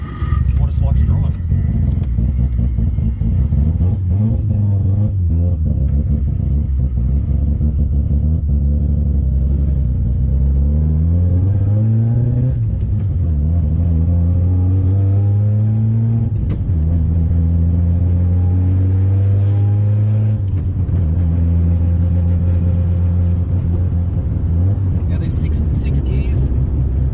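Mazda RX-7 FD with a CD009 gearbox conversion driving up through the gears, engine droning loud and close with repeated rising revs and drops at each shift, a voice talking over it throughout.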